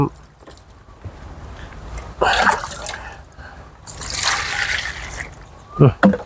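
Water is poured into an insecticide mixture of onion leaf sheaths, with two splashing gushes near and moderately loud, separated by quieter trickling, and someone speaking in between.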